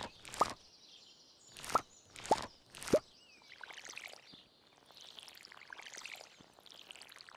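Crops being watered with a watering can in Stardew Valley: four crisp evenly spaced splashing pours over soft game ambience, followed by gentler trickling washes.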